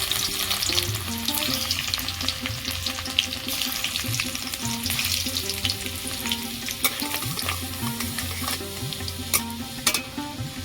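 Chopped garlic dropped into hot oil in a pan after frying dried red chillies, giving a loud, continuous close sizzle with frequent scraping stirs and small crackles throughout.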